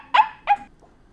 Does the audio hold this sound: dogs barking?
yes